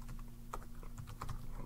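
Fingers tapping keys on a computer keyboard while a password is entered, a quick run of light, irregular clicks over a steady low hum, with no talking.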